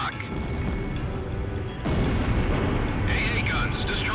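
Explosions from destroyed anti-aircraft guns in Ace Combat Zero: The Belkan War, a dense rumbling barrage that surges louder partway through, over continuous battle noise and jet roar.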